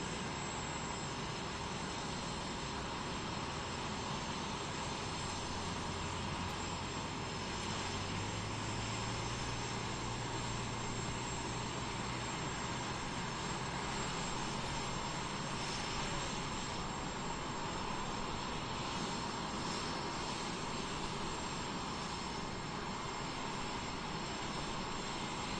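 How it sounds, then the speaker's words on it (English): A de Havilland Vampire twin-boom jet flies at an outdoor air show in Utah, its engine a steady, loud roar that holds without a break throughout, with no talk. "Twin boom, de Havilland Vampire."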